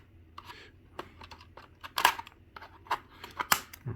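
Scissors snip open the plastic packaging of a diecast model car, giving a series of close, crisp, irregular cuts and clicks with small crinkles of plastic between them.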